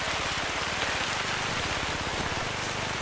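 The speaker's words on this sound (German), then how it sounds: "Es regnet." Steady rain in the video game theHunter: Call of the Wild hisses continuously on a surface, an even wash of patter with no pauses and no voices.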